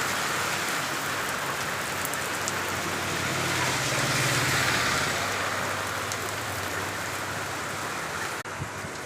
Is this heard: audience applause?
no